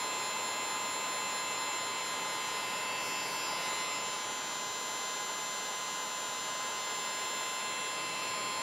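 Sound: heat gun shrinking heat-shrink tubing on soldered wires

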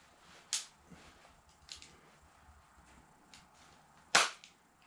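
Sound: flintlock pistol hammer being cocked and released

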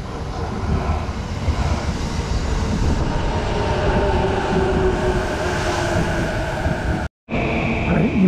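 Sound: Yamanote Line train at the platform of Nishi-Nippori station

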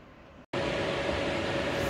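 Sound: electric fan running in the background

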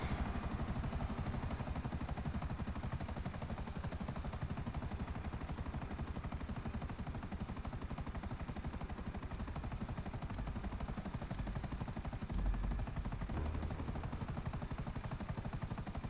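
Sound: helicopter flying in the video game GTA 5

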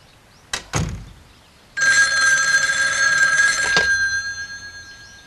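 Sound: telephone ringing

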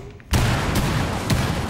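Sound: gunfire in the video game Rainbow Six Siege

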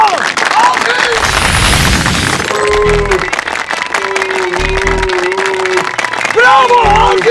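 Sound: applause

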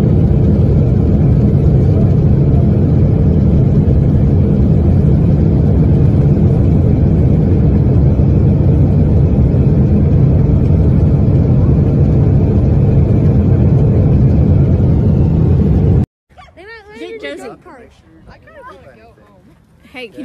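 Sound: Boeing 777 turbine engine failing and sputtering

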